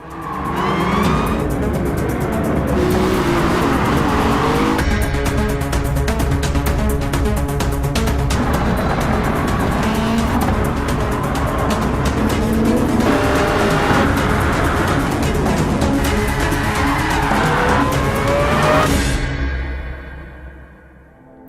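Race cars in a Gran Turismo game trailer roar loudly with revving engines, rapid gear changes, squealing tires and cars whooshing past, before the sound cuts off at the end.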